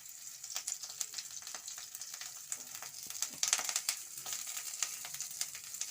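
Winter vegetables fry in a little oil, giving a faint, continuous crackling sizzle with scattered small pops and a few light stirring scrapes, steady throughout and without voices.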